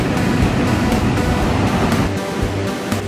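Ocean waves roll onto the shore in the evening as a loud, steady, close wash of surf noise with a rough, continuous roar and no voices.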